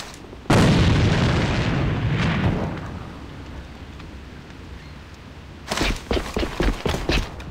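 A grenade detonates in the shooter game A.V.A, a heavy close boom with a long rolling rumble that fades out, followed by a run of sharp gunshots.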